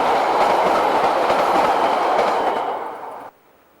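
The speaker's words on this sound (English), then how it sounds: "The excursion passing the old Pairata station site." A DXR diesel-electric locomotive hauls a Railway Enthusiast Society excursion past the old Pairata station site, a loud, steady roar with rhythmic clickety-clack of wheels on rail that cuts off abruptly near the end.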